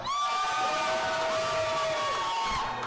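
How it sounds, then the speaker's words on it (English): A loud crowd at a combat robotics competition cheers, whoops and shouts for the robot Blizzard, with high children's yells riding over a steady roar that holds for the full stretch. "Let's hear that one more time for Blizzard."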